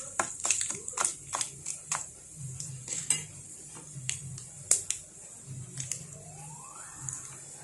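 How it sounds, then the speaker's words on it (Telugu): Mustard seeds, dal and dry red chillies for a Telugu tempering fry in a pan for gongura pachadi, a soft crackle under sharp metallic clinks and scrapes of a spoon stirring against the pan, steady and close. "తాలింపులు చక్కగా వేగిపోయాయండి"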